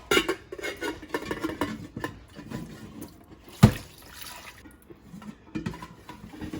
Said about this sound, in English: Then I come over here to the sink and pour this water off.